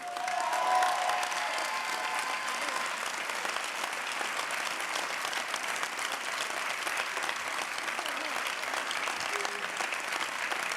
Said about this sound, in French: vous pouvez bien sûr applaudir bien fort Steno.